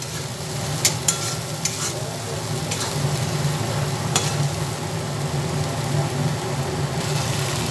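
Cut mustard-poppy-seed ingredients stirred in a hot frying pan for Bengali tilapia jhal, giving a steady sizzle with a few soft scraping clicks of the spoon, fairly close and continuous.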